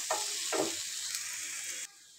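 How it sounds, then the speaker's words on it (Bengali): Taro stolons frying with chilli in a hot pan, a steady bright sizzle with two short bursts of stirring near the start, close and fairly loud, then cutting off abruptly near the end. "কচুরলতি দিয়ে দিচ্ছি তো এটা ভালো মতো একটু ভাজা নিব"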